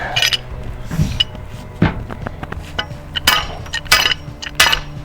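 Several sharp metallic strikes ring out irregularly as a large pipe wrench is used as a hammer to drive a post into the ground, with clinks between the hits.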